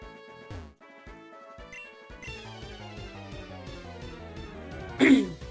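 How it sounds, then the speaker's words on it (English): A single short, sharp cough bursts out near the end, close and louder than the soft, melodic electronic tones playing quietly throughout. "Sorry, I keep coughing and stuff."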